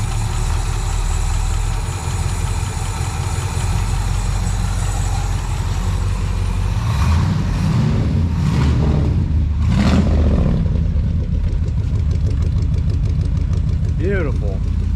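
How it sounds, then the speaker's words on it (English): A rebuilt vintage International Harvester Binder C112 pickup with a V8 and a rebuilt Holley two-barrel carburetor idles slightly low, a loud close steady rumble with a few light throttle blips, while someone talks over it. "That is a good sounding pickup."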